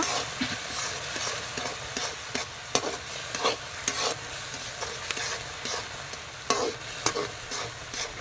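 A spoon stirs sugar into thickened coconut milk in a hot pan for banana kurukku, giving a low bubbling sizzle with repeated sharp scrapes and taps against the pan, close and without speech.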